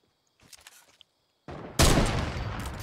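Gunshots in Fortnite, with a loud sustained burst of rapid fire starting abruptly after brief faint sounds and a short quiet gap, close and continuous to the end.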